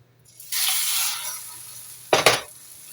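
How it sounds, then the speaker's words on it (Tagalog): A torta, a Filipino omelette, hits hot cooking oil with a broad close sizzle that swells and holds, then a second sharp burst of spattering frying noise near the end, with no talk. "Mainit na ang ating mantika, ay ilalagay na natin ang ating torta."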